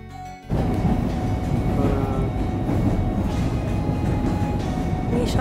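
Train cars rolling past at close range, a loud continuous rumble and rattle that starts abruptly and holds steady throughout, with faint metallic tones over it, on a rail line in Argentina.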